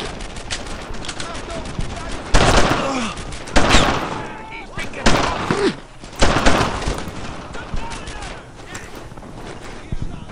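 Carbine gunfire in the World War II shooter Brothers in Arms: Earned in Blood, with loud repeated shots and bursts amid battle noise, wind and shouted voices.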